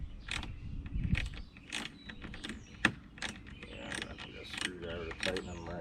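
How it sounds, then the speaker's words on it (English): Screwdriver tightening screws on a custom cedar trellis mounted to a raised garden bed, giving a run of close, irregular creaks and ratcheting mechanical clicks with faint low rumble beneath. "I have to get a screwdriver. Gotta tighten them."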